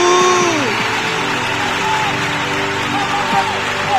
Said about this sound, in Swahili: Vigelegele na makofi kwa Yesu.